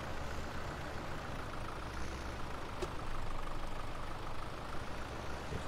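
A tractor engine idles in the Farming Simulator 17 video game, a steady low rumble that holds quiet and even throughout without any talking.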